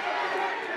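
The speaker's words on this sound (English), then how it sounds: "The crowd is cheering him on." Crowd noise at the Pensacola Bay Center during a boxing match, a short, steady roar of many voices under close commentary.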